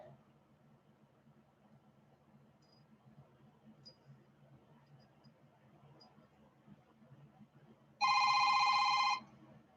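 A telephone bell rings loudly in one burst of about a second, standing out against a quiet room hum with no talking.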